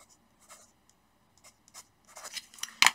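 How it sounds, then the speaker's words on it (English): A pen writes on a small paper tag, first in faint sparse strokes, then in a quicker burst of close scratchy scribbling ending in a sharp tap. "I'll write it on both sides."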